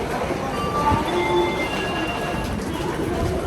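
A train rumbles and clatters at a railway station, loud and continuous, with faint wheel squeals over a steady rolling noise.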